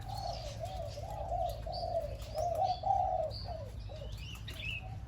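Bird calls repeat steadily, a run of mid-pitched warbling notes with brief higher chirps over them, fairly close, against a low steady hum.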